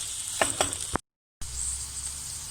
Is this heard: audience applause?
no